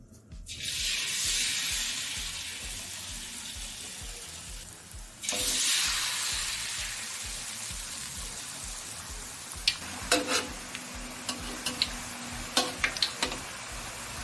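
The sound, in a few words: frying food over medium heat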